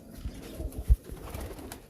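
A breeding pigeon gives a few low, soft coos in close succession, with one louder thump-like coo near the middle and no talking.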